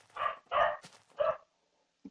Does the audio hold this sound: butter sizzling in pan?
no